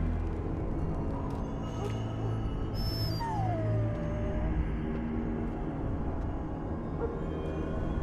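A dog whimpers in Dragon Age Origins, a thin, falling whine heard once over a steady bed of game ambience and low rumble, fairly faint.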